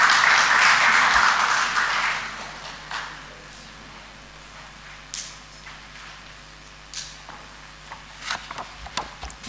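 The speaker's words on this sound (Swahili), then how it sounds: "Tumpigie makofi mengi tafadhali." Applause from the audience at an official government launch event in Tanzania bursts out loudly, then fades within about two seconds. Scattered knocks, shuffles and footsteps follow in a quieter hall.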